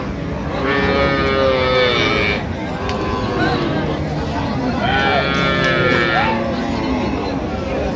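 At Raniganj cattle market, where a milk cow with her calf is up for sale, two loud, drawn-out moos ring out a few seconds apart over a busy, murmuring market backdrop.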